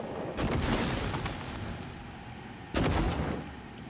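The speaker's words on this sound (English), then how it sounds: "let's use the goo gun here" The goo gun in Prey fires two bursts, each a soft muffled blast-like whoosh with a decaying wash, the second slightly sharper, at fairly low volume.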